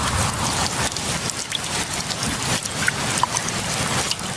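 Steady rain falls outdoors, a dense pattering hiss with scattered louder drops striking surfaces and occasional heavier bursts, continuous and fairly close throughout.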